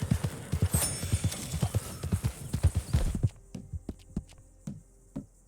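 Hooves clip-clop steadily as a horse travels in Red Dead Redemption 2, a close, regular beat that suddenly thins out into sparser, fainter steps with a low background hum.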